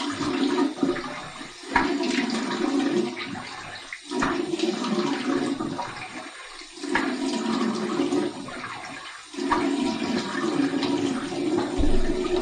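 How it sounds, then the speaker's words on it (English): Cold tap water runs into a bathroom sink for a post-shave rinse: a close, steady rushing flow, briefly interrupted several times as hands pass through the stream. "here's my cold water rinse"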